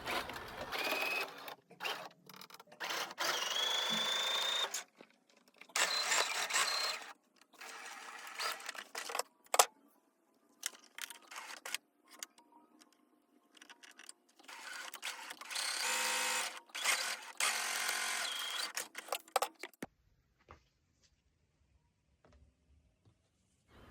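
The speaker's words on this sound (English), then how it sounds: "Now we will stitch the front panel to the back panel using a straight stitch on" Sewing machine running in repeated bursts of straight stitching as a skirt's front panel is joined to its back panel, the whirring runs starting and stopping close by, with quiet pauses between and a near-silent stretch at the end.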